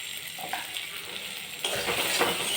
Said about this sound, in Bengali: তো এটা ভাজা ভাজা হয়ে যাক বন্ধুরা।